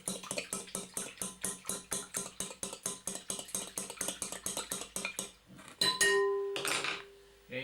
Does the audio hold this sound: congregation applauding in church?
no